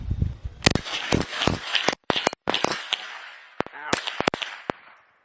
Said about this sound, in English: I'm going to keep trying until I shoot it extremely fast